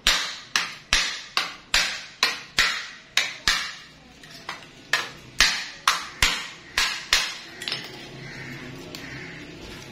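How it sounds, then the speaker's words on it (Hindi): A hammer striking a laptop battery pack made of 18650 cells, with about fifteen sharp metallic blows at a steady quick rhythm, loud and close, a short pause partway through. "इसको थोड़ा सा और हथौड़ा मार लेते हैं इस तरफ"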